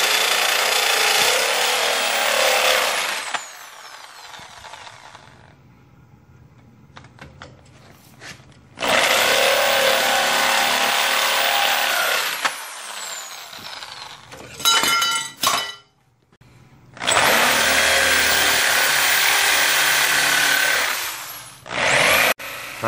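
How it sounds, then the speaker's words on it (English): A 7-inch hand saw cuts through the welds on a Jeep Dana 30 high-pinion front axle tube, loud sustained grinding bursts of several seconds each, separated by quieter pauses with light clinks and tool handling. "I decided to use a 7-inch hand saw."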